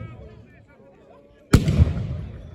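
A single loud musket shot at a battle reenactment of the 1793 assault at Arlon, Belgium, a sharp crack with a rolling tail following crowd murmur and a commentator speaking.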